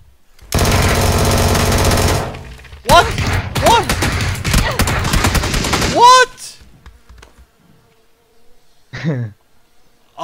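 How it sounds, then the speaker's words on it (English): A Vector submachine gun rattles off long rapid bursts in a third-person battle royale shooter, loud and dense, with pauses and a few shorter volleys near the end and a player talking between them. "I hit him full with the vector. All bullets."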